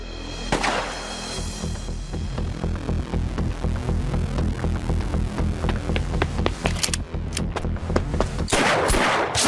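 Gunfire rings out in the Yakuza Kiwami 2 video game, a rapid series of loud, sharp shots in dense bursts that continue almost without pause, ending in a heavier final volley.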